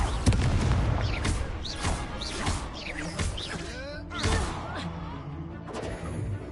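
Confringo blasting spell in the Hogwarts Legacy video game: repeated booming explosions and crashing bursts, loud and close, with a voice calling out spell names between the blasts.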